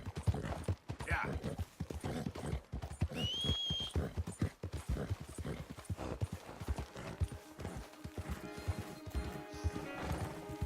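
Horse hooves in Red Dead Redemption 2, a brisk repeated clip-clop running through the whole stretch, with a short whinny early on and someone talking over it.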